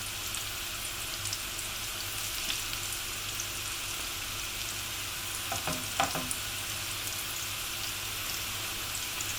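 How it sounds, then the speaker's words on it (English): Homemade potato latkes fry in a pan with a steady, even sizzle and crackle, close up, with a couple of faint clinks partway through. "If you want to fry them in batches, you can do so, and you can have the oven on to keep them warm."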